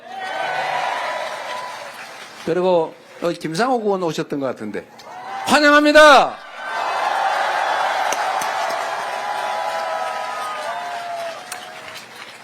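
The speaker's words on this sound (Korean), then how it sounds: "우리 현역 아닌 분들한테 더 박수 많이 쳐주세요." A crowd at an outdoor political rally on a beach applauds in a steady, moderate wash, broken in the middle by someone speaking over a loudspeaker, then swelling again as clapping resumes.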